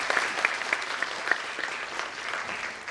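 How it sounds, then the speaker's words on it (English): An audience at an academic session gives the moderator a full round of applause: steady, dense clapping from many hands that holds at an even level for the whole stretch, with no voices over it. "Please give a huge round of applause for our moderator."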